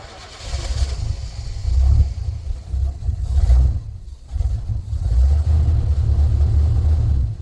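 A car engine fitted with an Edelbrock 4150 carburetor cold-starts and settles into a loud, rough idle, then is blipped in several throttle revs that rise and fall over the rumbling idle.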